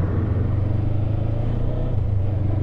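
A motorcycle on the road during a first ride, a steady low engine rumble with wind noise, close and continuous, no voices.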